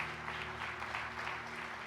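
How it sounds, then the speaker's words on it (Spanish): A church congregation applauds together, a dense, continuous wash of clapping that holds at steady loudness throughout. "Dele palmas al Señor con todo su corazón."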